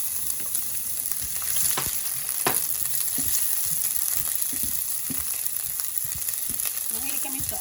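Onions hitting hot olive oil in a pan and frying for a chicken curry, a steady close sizzle with occasional stirring clicks and pops, no talking.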